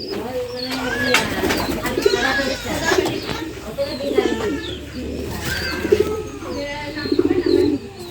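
A dove coos in soft, repeated calls while people talk nearby.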